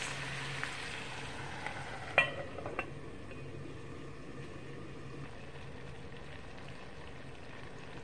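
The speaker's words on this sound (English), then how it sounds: "now I'm going to cover the skillet and let it simmer" Potatoes and onions fry gently in a covered skillet, giving a soft, steady low sizzle with a faint clink of the lid early on, quiet and close without talking.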